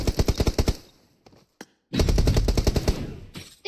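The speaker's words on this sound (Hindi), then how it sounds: "गोलियां चली हैं" Rapid automatic gunfire in PUBG Mobile rattles off in loud, close bursts: a quick string of shots, a brief pause with a few scattered single shots, then another sustained burst.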